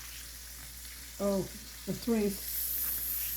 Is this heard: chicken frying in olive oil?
yes